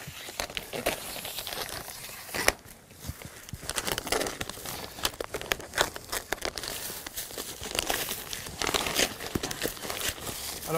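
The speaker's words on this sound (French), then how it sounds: "j'enlève toute la protection avec des ciseaux et non pas avec un cutter pour éviter de rayer la peinture" Continuous crinkling and rustling of protective plastic sheeting being pulled off a painted aluminium sliding gate and cut with scissors, with occasional snips and handling noises, close by and fairly steady.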